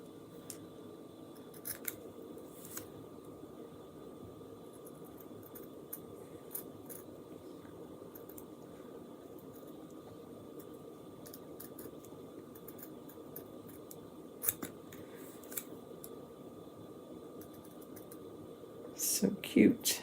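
Scissors trim a Chalkable Chip Shape, producing quiet, scattered snips at irregular intervals over a faint background hum, with a few louder clicks and rustles near the end and no voices.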